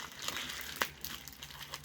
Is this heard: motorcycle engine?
no